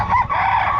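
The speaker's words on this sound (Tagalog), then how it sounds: "Manok lang, may katabing manok eh." A chicken gives a short, loud call up close, a brief throaty vocalization lasting under a second.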